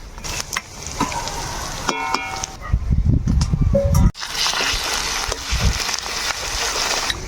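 Ginger fries in a pan for a crab curry while a wooden spoon stirs and scrapes, with close sizzling and clattering bursts that come and go over a steady frying hiss.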